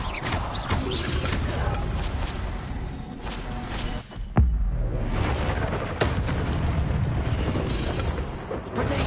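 Incendio fire spell cast in Hogwarts Legacy, a loud whooshing, rumbling burst with a sharp crack near the middle, set in dense game noise throughout.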